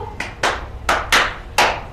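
A teacher in a primary-school microteaching class claps out a rhythmic pattern, five sharp, close hand claps in an uneven beat, with two quick pairs and a single clap, heard alone without talk.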